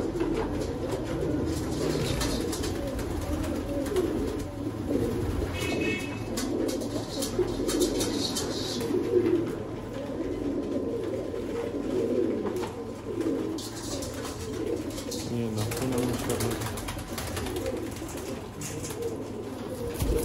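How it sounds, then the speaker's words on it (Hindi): Sialkoti pigeons coo in soft, steady murmurs for a long stretch, several birds overlapping against a low background hum, no one talking. "लाल मोतियों वाले मास्टर अब्दुल्ला वाले बाइयों वाले कबूतर"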